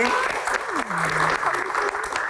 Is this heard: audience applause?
yes